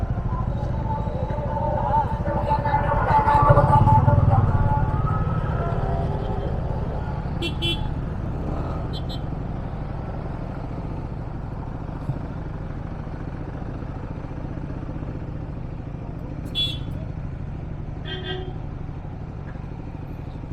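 Dense road traffic in Chennai seen from a motorcycle, with a constant rumble of engines and several short horn toots at intervals, under talk from riders.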